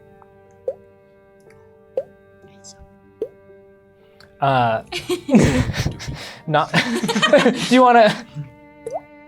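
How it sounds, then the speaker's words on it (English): Water drips in a wet, moist underground space, sparse single plops falling a second or so apart, fairly close and quiet, before people begin talking loudly over them. "As you descend into this area you hear this dripping of the water"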